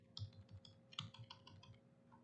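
Quick, light key clicks from arrow keys on a computer keyboard while modeling a house in Tinkercad, about a dozen close taps in an uneven rhythm, some in quick pairs, with no voices.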